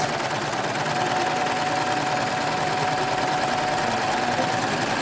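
A sewing machine with an Ovation plain hemmer foot stitches fabric in a fast, continuous, even whirring chatter that runs steady and close throughout.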